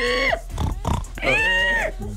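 A voice imitates a pig with close, loud nasal squeals, then a burst of snorting grunts and another long squealing oink during a playful Slovenian talk show.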